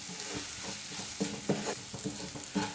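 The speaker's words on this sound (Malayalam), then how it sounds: "ഇനി നമുക്ക് ഇതെല്ലാം കൂടി ഒന്ന് നന്നായിട്ടൊന്ന് ഇളക്കി കൊടുക്കാം." Coriander and turmeric powder frying in oil in a pan, stirred with a spoon in steady repeated scrapes over a constant close sizzle, with no talking.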